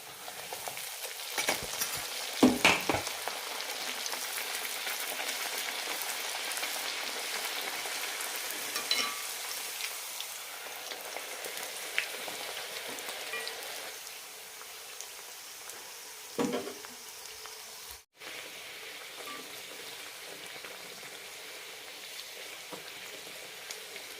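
Semolina (sooji) pooris deep-fry in hot oil, giving a continuous close hiss and crackle of sizzling with a few louder bubbling bursts and a brief clatter near the start, steady and unaccompanied by talk.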